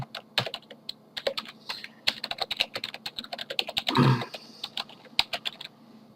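Typing on a computer keyboard, with rapid, irregular key clicks and a brief louder clatter midway, close and clear without talk.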